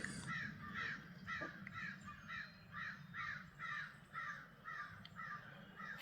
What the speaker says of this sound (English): But the birds are yapping.